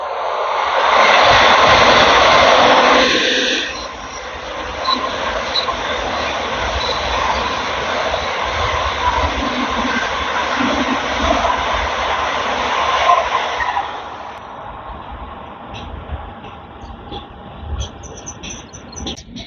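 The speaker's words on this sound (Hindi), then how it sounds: "और हमारी ट्रेन भी धीरे धीरे एक्सेलरेट करना स्टार्ट कर चुकी है।" Inside the Vande Bharat express train no. 22426 to Anand Vihar as it picks up speed, a steady roar and rumble of wheels on rail. A loud high whine fades after a few seconds, and the noise eases near the end.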